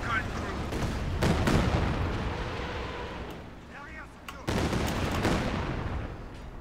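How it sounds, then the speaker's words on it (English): Katyusha rocket barrage in Company of Heroes 2, with loud rumbling bursts of launches and impacts that rise, ease off briefly, then return heavily, blended with battle noise and mixed with speech. "here comes the Katyusha barrage"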